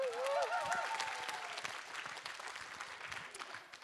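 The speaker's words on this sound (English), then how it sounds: "so give yourselves a round of applause" Wedding guests break into applause at a reception, a loud burst of dense clapping that slowly tapers, with a brief voice rising over the start.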